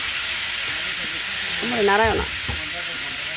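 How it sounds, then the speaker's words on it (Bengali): Onions frying in hot oil in a large pot for a wedding-style roast, a steady loud sizzle and hiss throughout while a voice speaks briefly over it. "এখন এর ভেতরে পেঁয়াজ দিয়ে দেওয়া হচ্ছে।"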